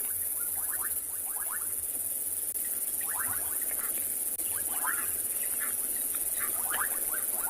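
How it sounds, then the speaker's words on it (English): Bursts of rapid, high-pitched chirping from armored ground crickets repeat every second or so over a steady hiss of outdoor ambience at sunset on safari, no voices. "that's the sound produced by those armored ground crickets."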